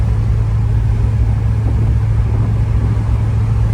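A Chevy S10 truck with a swapped 6.0 engine and T56 transmission cruises along the road, a loud, steady, deep engine rumble with constant road noise and no pauses.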